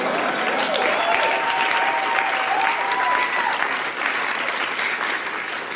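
A crowd at a cryptocurrency event applauds, dense sustained clapping that stays loud throughout and tapers slightly at the end, with a faint voice or tone underneath.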